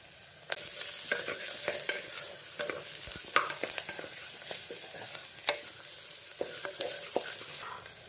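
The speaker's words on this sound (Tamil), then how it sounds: "வெங்காயம் வதங்கியாச்சு." Onions fry in a pan for a biryani, a steady sizzle broken by frequent scraping clicks of a spoon stirring them, close and fairly quiet with no talking.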